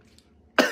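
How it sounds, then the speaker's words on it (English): A single sharp human cough bursts out near and loud at the end, after a near-silent stretch. "When people cough in 2022."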